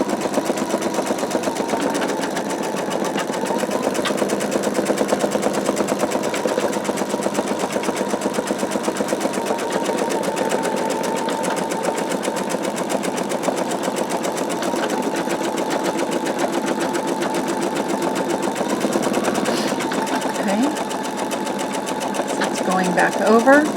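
An embroidery machine stitching lines on an in-the-hoop wallet project, a continuous rapid mechanical needle rattle running steadily throughout at close range, with a person talking over it.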